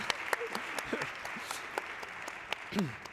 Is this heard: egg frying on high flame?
no